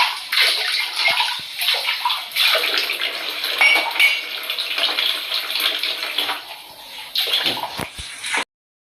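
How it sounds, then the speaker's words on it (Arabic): Dishes, a tray and spoons get scrubbed under a running kitchen tap, with water splashing steadily and plates and cutlery clinking close by until the flow stops abruptly. "انا بحب غسيل المواعين قوي على فكرة"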